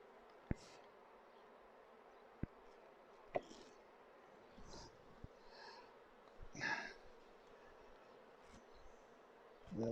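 Honey bees hum around hive frames during an apiary inspection. The low buzz sits under sharp knocks and clicks as frames are handled, and a few louder passes come close.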